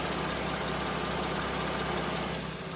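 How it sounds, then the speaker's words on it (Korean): A Hyundai Grandeur HG300 engine idles with the hood closed, a steady, even hum that stays constant throughout and fades slightly at the end, with no talk. "이 정도의 엔진 소음 기대하시면 될 것 같습니다."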